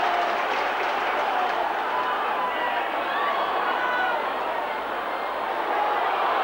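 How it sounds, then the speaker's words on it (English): A rugby league crowd at a 1997 Wigan versus Brisbane club match roars steadily in a large stadium, a continuous loud wash of cheering, with commentary present. "The crowd roaring Wigan on."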